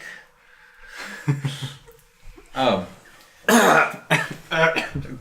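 A person, voiced as a character in a tabletop role-playing game, gives several harsh, rasping coughs in separate bursts mixed with vocal sounds, imitating someone coughing up blood.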